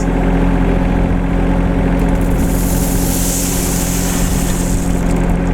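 A Solis 24hp 4WD compact tractor's diesel engine runs loud and steady throughout, a constant heavy drone with no pauses and no speech.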